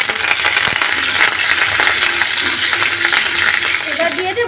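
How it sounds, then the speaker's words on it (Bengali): Curry leaves added to frying chopped ginger in a pan make a loud, steady sizzle and crackle, with a few sharp pops near the end and no talking. "আদা কুচি ভাজা হয়ে এসছে, এবার আমি কয়েকটা কারি পাতা দিয়ে দিচ্ছি।"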